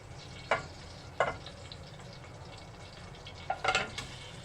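Brown dates go into melted local ghee in a pan, giving a faint, low sizzle broken by a few sharp crackling bursts spaced a second or two apart.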